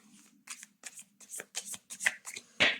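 Tarot cards being shuffled and cut, a series of crisp papery riffles and slaps in quick separate bursts, close and fairly loud, with a low hum underneath and no talking.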